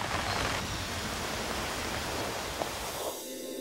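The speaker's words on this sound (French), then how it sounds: "les premières gouttes d'eau se transforment vite en pluie torrentielle" Heavy rain pours down in a dense, steady hiss, easing slightly near the end.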